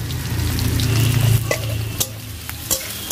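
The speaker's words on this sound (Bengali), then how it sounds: "এগুলোকে একটু ভালো করে নাড়াচাড়া করে একটু ভাজা ভাজা করে নেবো" Onions and green chilies stir-frying in hot oil for a village-style taro leaf dish, a close steady sizzle with spatula scrapes and stirring knocks against the pan.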